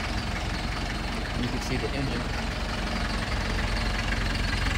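A 1987 Land Rover Defender 110 engine idles after a cold start with a steady, close, low mechanical rumble and faint knock, while someone talks over it.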